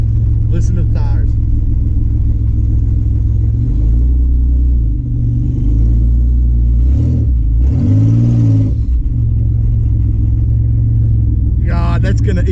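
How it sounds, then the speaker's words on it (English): Third-generation Chevrolet Camaro fitted with a mini spool, driven on the street, a loud, steady engine rumble inside the car with warbling, chattering scrub from the rear tires swelling as it turns a corner. "that's why you don't run a spool on the street. Like it's destroying the freaking tires."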